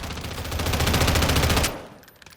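Rapid sustained burst from a TAC Evolver light machine gun in Call of Duty: Modern Warfare III, evenly spaced loud shots for about a second and a half, then a sudden stop and fading tail.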